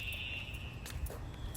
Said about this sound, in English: Yeah, there's a bell.